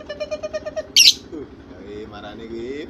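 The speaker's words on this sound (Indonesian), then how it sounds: "Burung lovebird lagi bercumbu tuh." Pet lovebirds chirp in a quick run of bright, repeated calls, then a sharp louder squawk, followed by softer chattering tweets; a voice murmurs faintly underneath.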